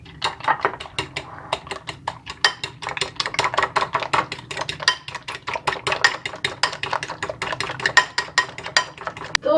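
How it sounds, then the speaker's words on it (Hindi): Salt and red chilli being stirred into ingredients for traditional chaati ki lassi, a fast run of clinking, scraping strokes of a spoon against a bowl, close and steady with no talk. "अब इस सबको हम मिक्स कर लेंगे।"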